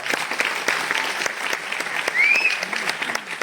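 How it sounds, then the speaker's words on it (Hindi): Applause from a small group, steady clapping running throughout with a short whistle-like tone partway through and faint voices underneath. "तालियां बजती हैं यार।"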